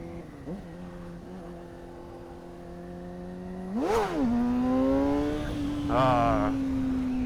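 A motorcycle ridden to a wheelie spot accelerates hard in second gear: a steady engine drone rises into a sharp rev surge, then holds a high pitch before a second brief burst, loud and close, with no talk.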